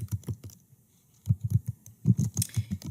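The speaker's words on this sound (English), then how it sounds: "I want you to watch when I type this" Quick bursts of keystrokes on a computer keyboard while entering a Google Forms question, close and crisp, with short pauses between flurries of typing.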